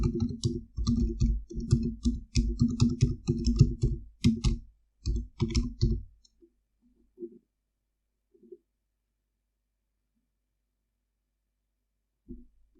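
Rapid bursts of crisp computer mouse clicks on Get and Install buttons come in quick clusters, then thin out to a few isolated clicks separated by silence.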